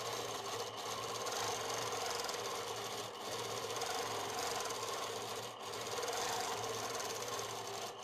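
A sewing machine running steadily for free-motion quilting with a stitch regulator on, a continuous close whirring hum with brief dips where the motion pauses, no talking.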